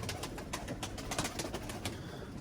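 Pigeons and their chicks coo softly indoors in an office, a faint low murmur broken by scattered light rustles and taps.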